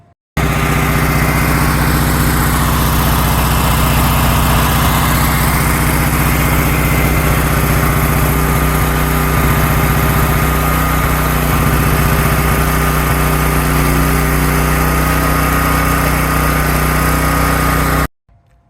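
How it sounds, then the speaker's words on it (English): A portable generator engine runs loud and steady with a constant droning hum for about eighteen seconds, then abruptly cuts out to silence. "I'm going to go ahead and run the generator until it sputters and stops"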